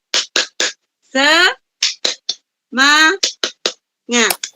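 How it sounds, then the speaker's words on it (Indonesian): A room of teachers performs the rhythmic 'tepuk semangat' clap: sharp bursts of group claps in quick sets, alternating with loud, drawn-out chanted shouts from the group. "Tepuk semangat."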